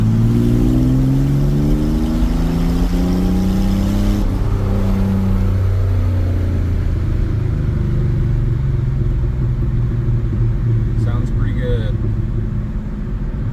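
A 1996 Chevy S10 pickup with Magnaflow mufflers and Holley Sniper fuel injection revs, its exhaust note rising and falling near a wall, then settling into a steady burbling idle while someone talks over it.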